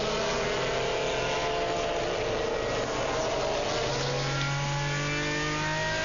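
FIA GT Championship 2001 race cars at the race start at the A1 Ring circuit, a dense continuous roar of several engines revving and accelerating together, loud and sustained with rising engine tones toward the end.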